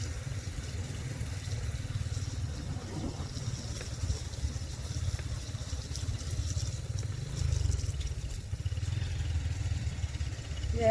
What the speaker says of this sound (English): I'm riding a motorbike to go to the villa